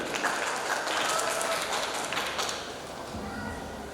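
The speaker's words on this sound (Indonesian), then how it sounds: "Beri tepuk tangan yang meriah." An audience applauds at a language ambassador pageant final, a crowd of scattered claps that thins toward the end as a voice starts to speak.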